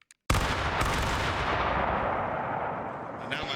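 A rifle volley fired on command in a battle video game, one sudden loud blast that rolls into a long, dense, rumbling echo lasting several seconds, with no talk over it.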